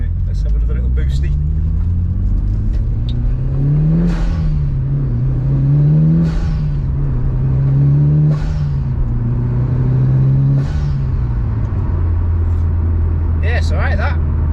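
Mitsubishi Evo 9 fitted with a GFB blow off valve, engine droning steadily with rising and falling boost through several pulls, heard from inside the car with wind noise and brief sharp whooshing bursts between gear changes.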